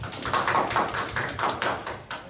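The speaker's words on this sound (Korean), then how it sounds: "우리 은서랑 건우에 박수 한번 쳐줄까?" A small church youth group claps for two members, a brief burst of quick, uneven hand claps at close range, fairly loud, with a few faint voices mixed in.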